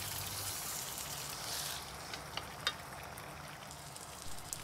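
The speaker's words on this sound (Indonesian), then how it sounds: "Sekarang kita aduk-aduk sebentar sampai semua ayamnya terbalur" Chicken pieces coated in ground spice paste for ayam bakar taliwang sizzle softly in a pan while being stirred, with faint scraping and light popping taps throughout.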